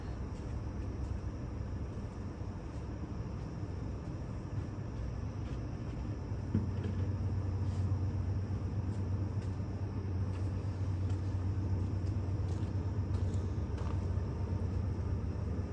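CA31K freight train hauled by an EMD locomotive, heard as a steady low rumble that swells and deepens about halfway through, then holds as a heavy drone at a moderate distance.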